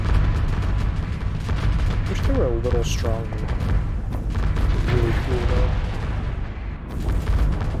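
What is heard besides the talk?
explosions in the space video game Starsector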